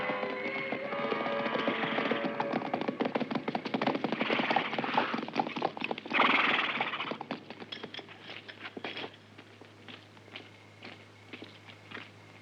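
Horse hooves clip-clop steadily at a brisk pace over a dense background of film music and commotion, the clatter continuing as the backdrop thins out.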